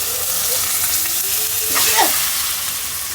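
Spices sizzle in hot oil in a wok while being stirred, for a Friday pulao-and-meat meal, a continuous close frying hiss with scraping sweeps of a spatula.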